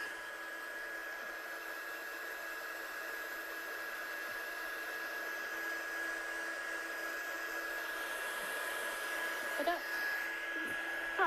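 A heat tool blows with a steady, even whir and a thin high whine, drying ink on a handmade card, constant throughout with a few faint clicks near the end.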